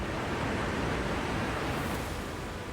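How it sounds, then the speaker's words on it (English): Floodwater of the Beas River in Himachal rushing in a steady, loud, broadband roar that holds constant without a break, like heavy surf. "The Beas River has turned into a furious force,"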